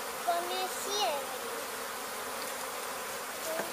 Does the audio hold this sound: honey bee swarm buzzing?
yes